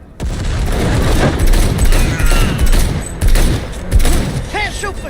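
Gunfire in the video game Cyberpunk 2077 crackles in rapid repeated bursts with heavy booming impacts, loud and close, continuing in waves across the whole stretch.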